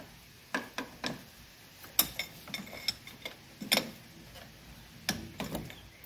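A socket wrench loosens a 24 mm nut on a 1984 Mercedes 300D, giving soft, scattered metallic clicks and ratchet ticks at an irregular pace, close by and fairly faint.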